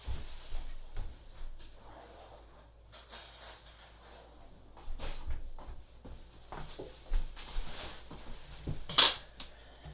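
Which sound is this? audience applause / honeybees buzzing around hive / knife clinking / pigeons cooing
knife clinking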